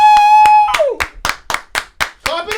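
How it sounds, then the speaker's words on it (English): People clapping hands in a steady rhythm, about eight sharp loud claps, the first stretch overlapping a sustained tone and later claps mixed with vocal sounds. "Clap it up!"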